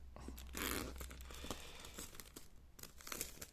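Packaging of a freshly unboxed item being opened by hand: close crinkling and tearing of wrapping, with a sharp rip early on and scattered crackles and rustles.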